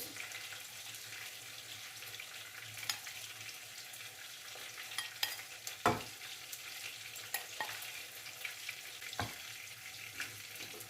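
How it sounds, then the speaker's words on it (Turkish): Potatoes being gently stirred with sauce in a pan, steady soft sizzling bed with a few sharp scraping clicks of the utensil spread through, no talking. "Yavaş yavaş Patatesleri çok fazla incitmeden diyorum ben buna. İncitmeden biraz karıştırıyoruz."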